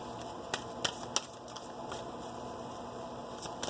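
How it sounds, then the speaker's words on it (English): Tarot cards shuffled by hand during a reading, a faint, soft riffle with scattered light snaps and taps against a steady low hum, no talking. "It's all the shuffling that seems to take a bit longer than we hope."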